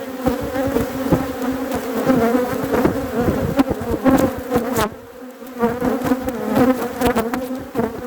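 Honey bees swarm around a hive in a horizontal hive box, a loud, close, continuous buzzing drone with individual bees zipping past.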